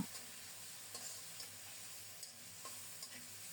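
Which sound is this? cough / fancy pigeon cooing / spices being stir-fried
spices being stir-fried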